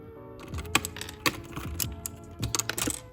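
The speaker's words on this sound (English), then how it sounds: "we're just going to go ahead and remove W, A, and D with the keycap puller" Plastic keycaps pried off a computer keyboard with a keycap puller, sharp clicks and clacks in short irregular bursts, close and fairly quiet.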